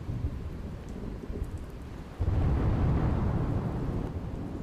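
Unseasonal rain with thunder in Gujarat: a soft wash of rainfall, then a deep rolling thunder rumble swells abruptly about halfway through and lingers heavily under the rain.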